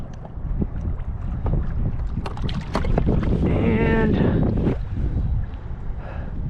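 A small skiff's outboard motor hums steadily across the water, its drone mixed with heavy wind buffeting the microphone, and a brief tonal whine rises in the middle.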